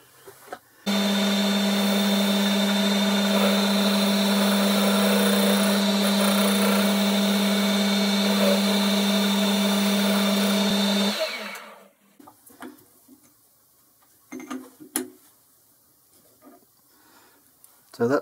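A metal lathe facing off a metal part runs with a steady whine and hum for about ten seconds, then spins down and stops, leaving faint clinks and handling noises.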